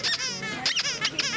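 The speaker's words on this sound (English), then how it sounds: "They squeak in different voices." Squeaky toys squeak in a toy shop in quick, repeated high-pitched bursts of varying pitch, close and fairly loud.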